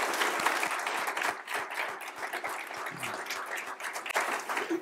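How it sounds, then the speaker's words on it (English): An audience applauds at an education and leadership luncheon, steady dense clapping filling the room for about five seconds with no voices over it. "can we give Grant Hill another round of applause?"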